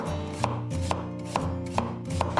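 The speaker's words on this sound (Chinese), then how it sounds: "削皮以后，我们先切片" A knife slicing a peeled white radish on a cutting board, about five crisp, evenly spaced chops at close range, with no talking.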